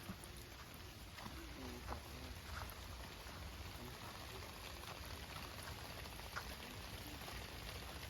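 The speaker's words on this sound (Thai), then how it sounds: "นี่มีเสียงน้ำตกแล้ว" Waterfall spilling over tree roots and rocks in a forest, a faint, even hiss of rushing water heard from a distance and continuing steadily throughout with no voices.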